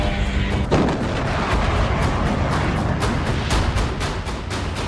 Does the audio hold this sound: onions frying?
no